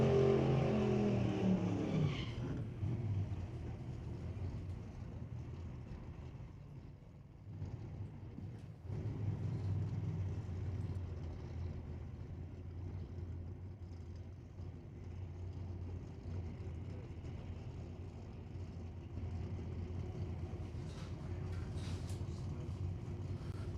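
A 2000 Camaro drag car with an LS engine runs down the track at a qualifying event, a distant, muffled engine roar and rumble rising and settling across the pass, with crowd and track ambience around it and announcer talk briefly at the start.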